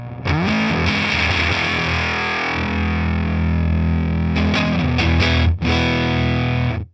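Electric guitar on the neck pickup through a Prescription Electronics COB octave fuzz pedal with its blend control rolled in, a thick, woofy distorted chord sound ringing steadily, close and loud, then a brief cut and restart near the end.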